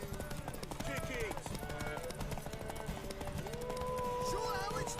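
Hooves clop rapidly and rhythmically as a horse gallops in The Witcher 3, mixed with game music and voices talking over it.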